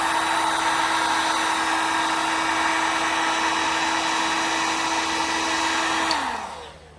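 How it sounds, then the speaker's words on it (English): A heat gun blasts hot air onto the cracked bed of a cast iron sewing machine, a loud steady close whine and rush that runs unbroken, then winds down as it shuts off. "I'm going to go ahead and blow this out with heat."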